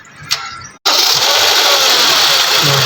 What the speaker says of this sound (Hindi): गाड़ी स्टार्ट हो गई